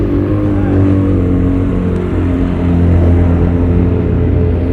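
A race car at an endurance race on Croft Circuit pulls away with a loud, sustained engine drone that swells slightly as it drives off, with no talking over it.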